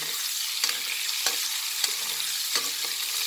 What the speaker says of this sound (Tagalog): Isunod na po natin yung laman na karne.